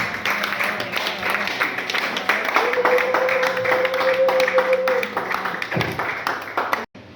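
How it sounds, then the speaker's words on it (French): An audience applauds someone speaker at a women's and youth association event, with sustained dense clapping for about seven seconds over a faint steady hum, then a sudden cutoff. "Si nous pouvons applaudir pour elle et pour toutes ses compétences"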